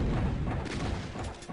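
Explosion blasts in the Doom video game running the Deepest Evil mod, loud, dense booming rumble filling the whole short stretch with no talk over it.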